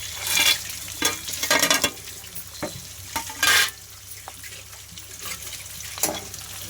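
Curry leaves, roasted gram and peanuts frying in hot oil while being stirred, a steady sizzle with repeated loud scraping strokes of a spoon against the pan, close up.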